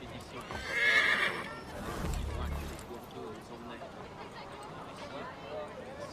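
A horse in Assassin's Creed 3 whinnies loudly near the start, followed by clip-clopping hooves moving through a town, with quiet speech and background game ambience.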